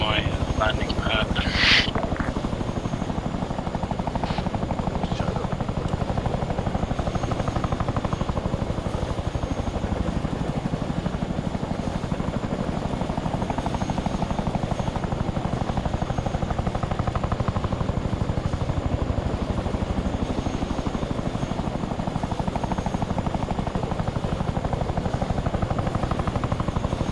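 A military helicopter hovers steadily in Arma 3, its rotor and turbine drone filling the whole stretch at constant level, while a voice talks over the noise.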